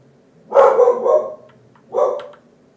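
A dog barks close by indoors: a drawn-out double bark followed by a single shorter bark after a brief pause, loud against a quiet room.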